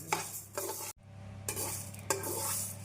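Urad dal roasts in a pan for idli podi while a spoon stirs and scrapes it, giving a soft dry sizzle with a few louder scrapes and a brief pause in between, and no voices.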